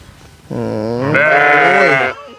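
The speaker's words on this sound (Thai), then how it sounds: "ตอนนี้เราจะไปเดินไปดูแพะนะครับ" A goat at Chang Puak elephant camp in Chiang Rai gives one loud, close, drawn-out bleat lasting about a second and a half. The bleat rises partway through and is heard alone.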